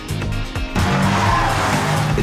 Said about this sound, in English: It's amazing driving the new M5 with Claudia around the Nürburgring